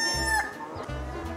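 A pet chicken clucks close by in a few low, throaty bursts with brief gaps, a faint high whine in the background.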